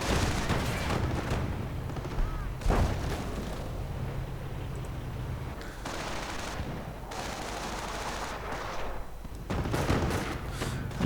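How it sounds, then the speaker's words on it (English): Grenades and artillery from German forces in a WWII strategy video game: dense, continuous rumbling gunfire and explosions with sharp blasts standing out at intervals, loud and sustained throughout. "And grenades going off. Artillery going in from the Germans instead."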